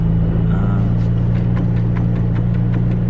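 The hydraulic power steering pump of a McLaren 570 gives a loud, steady mechanical hum with a low tonal drone, continuous and unbroken for the whole stretch.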